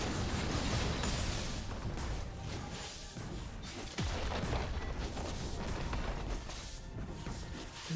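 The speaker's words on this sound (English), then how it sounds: "Blue team's turret has been destroyed." A turret collapses in League of Legends amid a continuous wash of crashing, booming game effects that stay loud and dense throughout, with no single distinct impact standing out.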